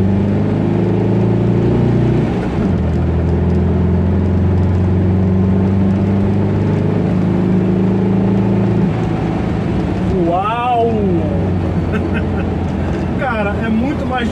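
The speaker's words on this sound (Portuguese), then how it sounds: "Eu não vou conseguir falar porque ele faz muito barulho" A 1972 VW Fusca 1500 runs loud and close, its air-cooled engine droning steadily and changing pitch as it pulls under acceleration in second gear, with a voice talking over it near the end.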